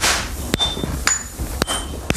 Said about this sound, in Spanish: Los estudiantes manejan los enormes martillos que dan forma al hierro al rojo